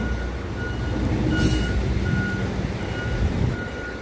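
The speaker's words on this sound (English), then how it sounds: "Oh, I have to be careful of this big truck." A big truck idles on a rainy Manhattan street, its reversing beeps repeating steadily in a regular rhythm at moderate distance under a broad rumble of engine and wet traffic noise.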